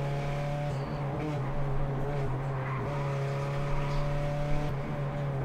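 TC2000 race cars enter the first curve of the circuit at the start of a race, a dense and steady engine roar with shifting pitch as the pack sweeps through.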